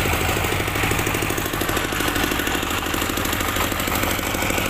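A Dongfeng diesel engine drives the 20 kW generator dynamo on an odong-odong ride, running with a steady, loud, continuous chugging rumble and a dense rapid pulse throughout.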